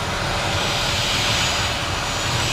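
F-15 Eagle fighter jet engine giving a steady, loud roar with a broad hiss that holds even throughout, no voices over it.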